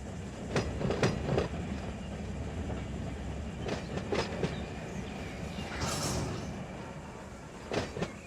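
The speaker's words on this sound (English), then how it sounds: "I heard the train coming" A train rolls past in the Run 8 train simulator set in Southern California, with repeated rhythmic clickety-clack wheel beats over a steady rumble.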